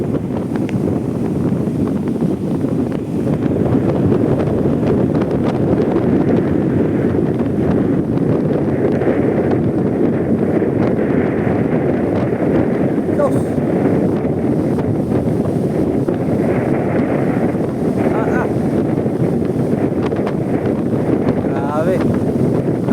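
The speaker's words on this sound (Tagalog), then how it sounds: "Grabe, lalaki na alon." Strong wind roars across the microphone aboard a boat at sea amid big waves, a constant heavy rush with muffled water wash underneath, filling the whole stretch without letup.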